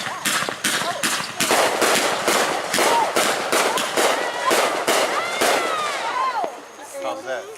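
Fireworks explode in rapid succession at a 2015 fireworks show, a dense barrage of loud booms and crackles with whistling rockets rising, while a crowd murmurs and a voice is heard beneath the blasts.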